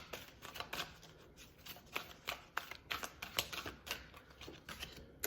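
Oracle cards being shuffled by hand: quiet, close crisp riffling and flicking in irregular bursts, many rapid card snaps over soft background hiss.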